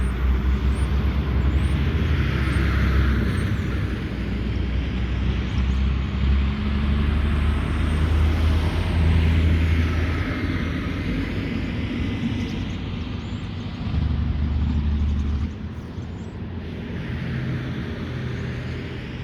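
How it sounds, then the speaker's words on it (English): Heavy dump trucks rumble past outdoors, a loud, continuous low engine drone that swells and fades over about twenty seconds, with a second surge toward the end. "It seems like some dump trucks are passing by."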